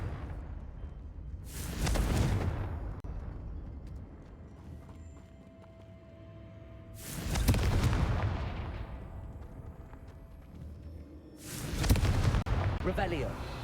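Three loud, broadband blasts from the Confringo fire spell in Hogwarts Legacy, spaced a few seconds apart, each bursting up sharply and rumbling out over a low ambient bed.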